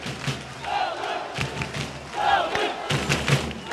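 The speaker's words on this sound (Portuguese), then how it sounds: "A torcida de Lara, a torcida que tem o nome do time." Football supporters in a packed stadium, the 19 de Outubro ground, chant together in a loud, rhythmic roar that swells and dips, with a commentator talking over it.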